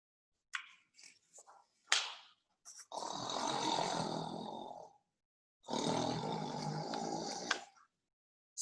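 A children's camping story read aloud, with a person mimicking snoring: two long, loud rasping snores, each lasting a couple of seconds, preceded by a few short breathy noises and vocal sounds.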